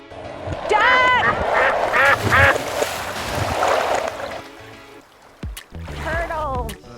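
Ducks quacking nearby along a wooded canal towpath, a burst of several raspy quacks followed by another short run, mixed with people talking outdoors.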